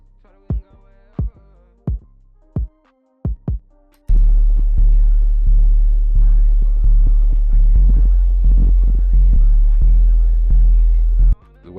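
A simple kick drum sample from the Lunch 77 Pureborn drum kit plays five dry, punchy single hits alone, then a dense, loud trap beat with booming sub bass and layered drums takes over.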